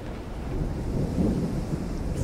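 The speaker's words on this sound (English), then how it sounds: "Yeah, it would be scary during storms here, for sure." A thunderstorm rumbles in the Hitman 2 video game, a steady low roll of thunder with a rain-like wash spread evenly over the short stretch, loud and continuous with no voices.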